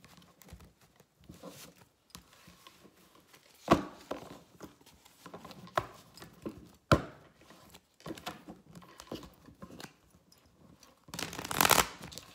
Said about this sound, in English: I like that shuffle.